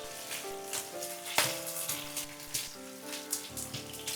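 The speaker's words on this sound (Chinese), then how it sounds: "锅里倒一点油，小火把葱段、姜片还有洋葱慢慢炒香" Scallions, ginger and onion stir-fry slowly in oil over low heat, giving a soft, steady sizzle with crackling pops, under gentle background music.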